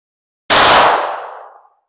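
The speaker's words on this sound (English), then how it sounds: "just shoot at a target, see how the shots going" A single loud rifle or pistol shot cracks out at an outdoor target range, its sharp blast decaying over about a second with a faint ringing after.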